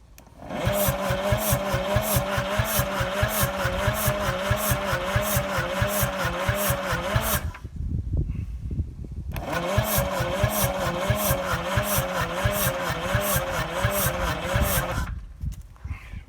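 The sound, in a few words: Detroit 353 diesel engine cranking on starter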